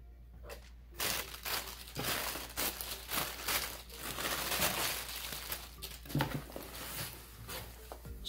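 A plastic package with a zipper running around its edge is handled and opened, giving steady crinkling and rustling with a few sharper crackles throughout, close and fairly loud, with no talking.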